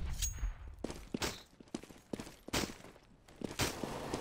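Gunfire in CS:GO, with sharp shots and thuds scattered irregularly across a few seconds, fairly close and punchy against a quiet background.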